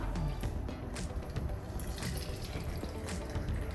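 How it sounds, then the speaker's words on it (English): Hot water pours into a large teapot holding a tea infuser with holy basil, a steady splashing, gurgling stream heard close and alone. "So I'm going to have 2 in the infuser, and then add in hot water."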